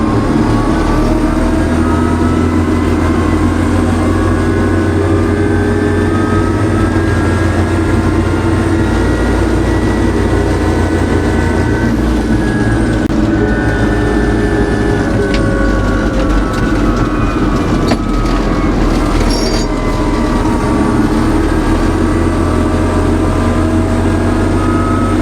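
Tractor engine heard from the cab while driving along a farm lane to a harvested sprout field, a steady loud low drone with rumbling vibration and rattles running throughout with no talk.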